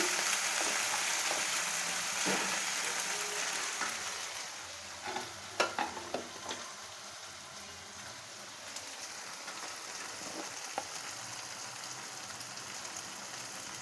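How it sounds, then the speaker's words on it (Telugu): Fenugreek leaves fry in oil for a methi chicken curry, giving a steady, close hiss of sizzling with occasional light scrapes and clinks of stirring and no voices. "మెంతికూర బాగా వేగాల నూనెలో వేగి"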